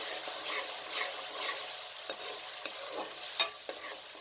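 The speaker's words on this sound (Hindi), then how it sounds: "अच्छे तरीके से चम्मच हिलाएं। अब मसाले को इतना भूनना है कि इसका कलर चेंज हो जाए।" Spice masala for Lahori chickpeas frying in a pan while a spoon stirs it, a steady soft sizzle with occasional scrapes and small clinks, close and quiet.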